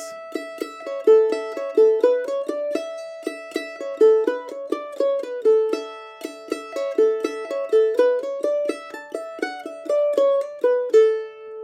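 A mandolin plays the jig tune "Atholl Highlanders" in a bouncing triple rhythm, bright repeated notes with quick runs, clear and solo.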